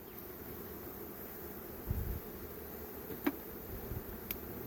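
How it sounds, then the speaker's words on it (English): A modest honey bee swarm hums faintly outdoors while being caught and rehomed in a trash bucket, a low steady buzz with a few louder passes of individual bees. "Pretty good size swarm. Not a ton of bees, but there's bees."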